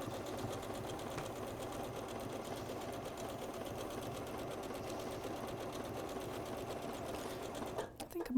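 A sewing machine hums steadily at full speed, stitching through fabric and stitch-and-tear stabilizer, with a continuous even drone that cuts off near the end.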